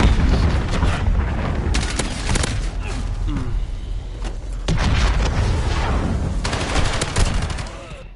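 Rapid rifle gunfire from the Modern Warfare video game crackles in repeated bursts, with booming shots and explosions layered through a busy ground-war battle, loud and near, with occasional voices underneath.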